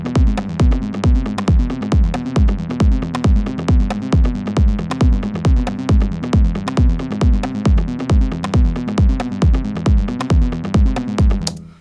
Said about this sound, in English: So you basically let it randomly decide what note to arpeggiate when.